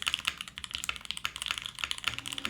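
Rapid, steady typing on a limited-run mechanical keyboard, crisp clacky keystrokes rattling off in a quick, uneven rhythm, close and clear with no talking.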